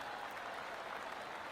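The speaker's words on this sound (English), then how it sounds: "Golf clap." Steady light applause from a small virtual gallery in the PGA Tour 2K23 golf video game, a soft continuous patter of clapping held at an even low level throughout.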